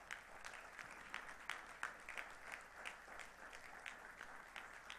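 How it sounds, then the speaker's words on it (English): A standing audience at a Muslim Heritage Month event applauds in a long, even stretch of faint, distant clapping, with sharper individual claps standing out now and then. "Another round of applause."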